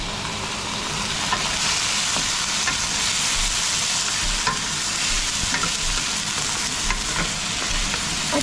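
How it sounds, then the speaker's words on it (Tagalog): Pork belly with onion and garlic sizzling loudly in a pan while being stirred, a dense continuous frying hiss with scattered scraping taps throughout. "Kaya halo ko na itong ating pork belly."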